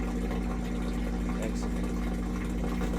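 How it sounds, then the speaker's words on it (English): A Whirlpool washer's drain pump, which may have an object caught in the drain, hums steadily as it pumps out water, with a constant low drone and faint watery gurgling throughout. "Pump out sounds a little slow."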